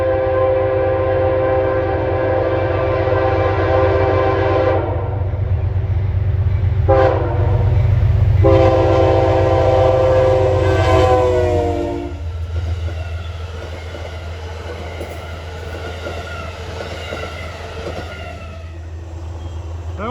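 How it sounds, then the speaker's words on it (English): Amtrak 284, a P32 locomotive numbered 708, passes a rural crossing in Lyons, New York with a loud low rumble and several long horn blasts, the last cutting off. The train noise then thins as the cars roll away. "That was Amtrak 284 en route from Niagara Falls, New York to New York City. Nice horn."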